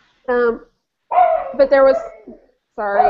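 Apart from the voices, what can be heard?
dogs barking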